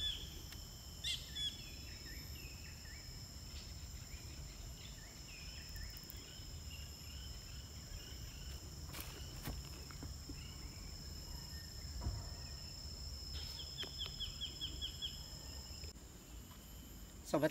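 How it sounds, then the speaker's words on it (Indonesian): Insects trill steadily with scattered bird calls and chirps in a banana plantation, a continuous faint outdoor chorus with no talking. "Itu suara burung, suara-suara."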